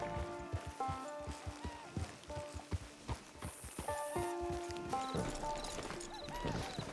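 Horse hooves clip-clopping in the video game Red Dead Redemption 2, a steady rhythmic trot of crisp hoofbeats close by, backed by game music and ambient sound.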